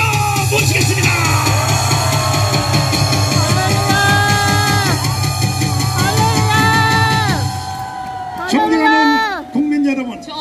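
A rally crowd at Seoul Station on Liberation Day yells and cheers during a standing ovation, with loud shouting voices over an amplified, echoing backdrop, briefly dipping then surging again near the end.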